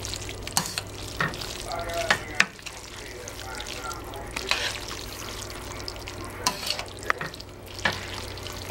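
Cheese being stirred into spaghetti sauce in a pot gives scraping, sloshing kitchen sounds with scattered utensil clicks and a low hum underneath.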